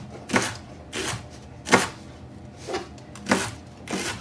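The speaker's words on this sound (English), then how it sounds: "So let's just go ahead and start chopping." Knife chopping leeks on a cutting board, six separate crisp chops at a slow, slightly uneven pace, close and clear with no talk.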